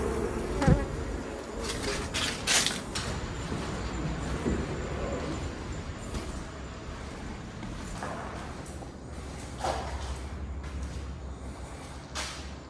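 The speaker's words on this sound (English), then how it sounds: "Can hear lots of bees in there." Bees buzz continuously at close range, a droning hum rising and falling as insects pass by, with a few sharp knocks early on.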